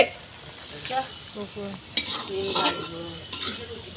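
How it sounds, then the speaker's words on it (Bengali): Broad beans frying in a pan at home: soft steady sizzle under intermittent scraping and clinking of a utensil against the pan, with a few sharper metallic taps. "হ্যাঁ, সিম ভাজবো"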